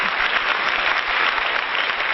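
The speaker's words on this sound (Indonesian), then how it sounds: "Boleh saya minta tepuk tangan sore ini buat kita semuanya?" Steady audience applause at an art event launch and press conference in Jakarta, a dense, even clatter of many hands clapping throughout.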